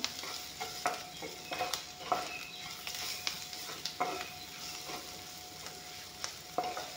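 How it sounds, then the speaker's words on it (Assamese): Ground spice powder fries in a pan, a soft steady sizzle broken by scraping stirs and light clinks of a spoon, close and quiet, with no one talking. "গুড়াখিনি যিহেতুকে দিছোঁ, অলপমান ভাজি ল'ম।"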